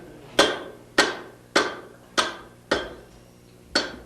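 Steel rings under a blacksmith's hammer as one side is drawn down and sharpened: six sharp, evenly spaced blows about half a second apart, each with a short ringing decay, close and clear with no talking.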